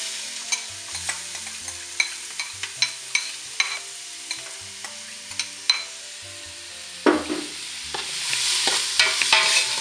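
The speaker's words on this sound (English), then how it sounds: "You need to gently fry the onions. You don't need to brown the onions, but just bring it, saute it for a few minutes." Onions sauté in olive oil in a hot pot for chicken and kidney bean chili, with a soft, steady sizzle punctuated by a string of crisp spoon clanks and scrapes, then a louder hiss swelling near the end.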